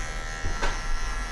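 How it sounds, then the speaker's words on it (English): Electric hair clippers buzz steadily through a brief clipper-over-comb pass while cutting hair for a classic men's style, close and loud, with a slight swell midway. "what I like to do with my clip over comb is to go both ways"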